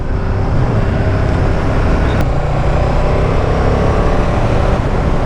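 A 2017 KTM 1290 Super Duke GT motorcycle rides at speed with quick-shifter gear changes, a loud, steady engine drone mixed with heavy wind rush and a brief shift blip midway.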